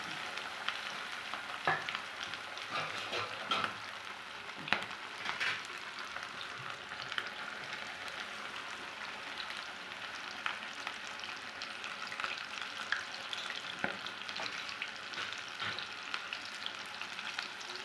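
Battered KFC-style chicken pieces frying in hot oil, giving a steady, dense sizzle with scattered crackles and pops throughout, close and continuous with no talking.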